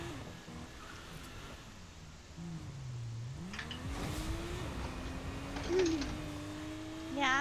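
A car engine in the Fortnite video game hums steadily and rises in pitch as it revs, fairly close and moderately loud, with some game noise in the background.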